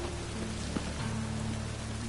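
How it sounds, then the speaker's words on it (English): Rain in The Witcher video game falls as a steady, dense hiss over low droning ambience, with a faint tap or clink standing out briefly partway through. "Running around in this rain?"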